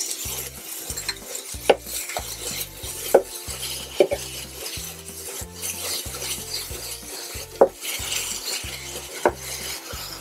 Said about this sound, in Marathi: त्याच्यानंतर घालणार आहोत सिमला मिरची.